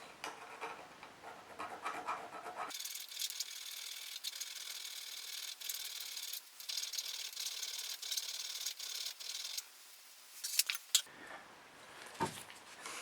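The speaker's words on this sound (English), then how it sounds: "Then I take a tiny weeny file and just get them flush." A tiny hand file rasps carburetor parts from a BMW Bing CV carb flush, taking off burrs in a close, continuous run of quick scraping strokes that stops abruptly near the end.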